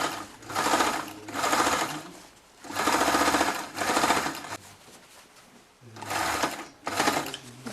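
A sewing machine topstitches an unlined shirt-jacket in loud, close bursts of rapid stitching, separated by short pauses in a stop-start rhythm.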